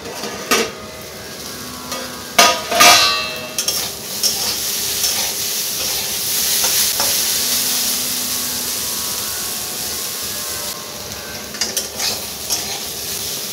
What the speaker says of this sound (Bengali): আমি বেগুনটা এরকম চাপা দিয়ে দিয়ে ভেজে নেব।